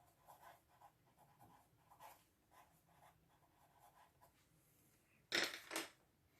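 Pen strokes scratch softly and rhythmically while notes are written down during a wood-technology model-making lesson, faint and close, ending with a sharper clatter near the end.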